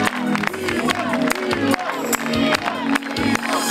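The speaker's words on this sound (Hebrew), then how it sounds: "קבלו במחיאות כפיים סוערות את שמעון לנקרי." Enthusiastic crowd applause and cheering for the mayor Shimon Lankri at a city event, dense and loud, with whoops and babble mixed in throughout.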